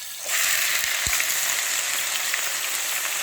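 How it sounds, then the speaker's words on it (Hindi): Finely chopped onions hitting hot ghee in a pan, a sudden loud, steady sizzle that starts abruptly and keeps frying evenly with no voices. "अब हम इसमें डाल देंगे 2 बड़े साइज़ के हमने प्याज लिए"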